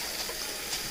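Tap water runs in a steady, loud, hissing stream as it fills a container for fermented chicken feed, close by with no talk.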